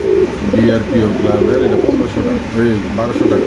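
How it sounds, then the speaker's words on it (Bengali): Pigeons at a pigeon market coo close and loud in rolling, overlapping throaty calls that repeat without pause through the whole moment. "খুব সুন্দর মাসাল্লাহ বড় সাইজের কবুতর"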